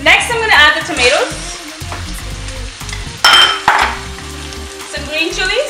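Tomatoes hit a pan of hot oil with garlic and ginger paste for a fish and shrimp biryani, sizzling loudly up close while being stirred, with bursts of scraping and a spoken voice in places.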